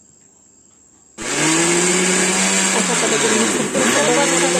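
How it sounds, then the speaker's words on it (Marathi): An electric mixer grinder grinding semolina for laddoos kicks in abruptly after a quiet moment with a brief voice, then runs loud and steady with a high motor whine and a short dip near the end. "आता ह्याला मी मिक्सरवरून बारीक करून घेणार आहे"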